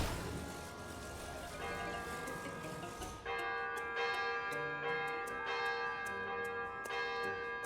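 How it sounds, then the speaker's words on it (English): A bell rings repeatedly in Tears of the Kingdom, clear resonant strikes that decay into a shimmering sustained tone, several strokes in succession at a steady pace with no talk over them. "Oh, I bet we can ring the bell."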